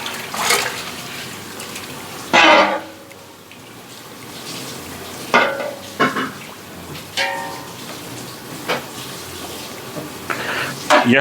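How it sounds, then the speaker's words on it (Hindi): Spices crackle softly in oil for chicken pulao, a low, close sizzle broken by a handful of louder bursts of splutter and stirring spaced through the clip. "मसाले जो हैं वो हल्के हल्के कड़कड़ा रहे हैं"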